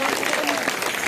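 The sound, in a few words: loud applause by children and villagers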